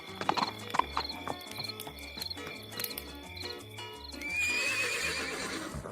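A horse sound effect: hooves clip-clop in a steady rhythm under a chirping cricket, then a long, loud whinny near the end.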